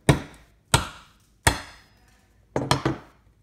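Five sharp, dry cracks of a solid being broken into several pieces, three evenly spaced single snaps followed by a quick cluster of three, each close and crisp with a short decay into near silence.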